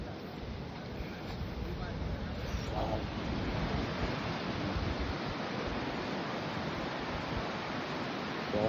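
A river below Kumbhe waterfall rushes in a steady, broad roar that fills the whole stretch without letting up, heard from nearby with a faint hint of voices beneath.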